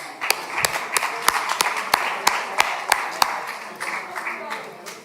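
Audience at a participatory democracy conference applauding themselves, with sharp separate hand claps in a steady rhythm over a general clapping wash and background chatter, close and fairly loud, thinning out toward the end.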